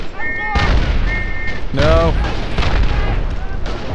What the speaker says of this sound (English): My random mortar fire is killing someone.